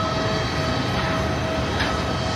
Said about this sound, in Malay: Angin ni, angin jet, angin tu dia punya engine.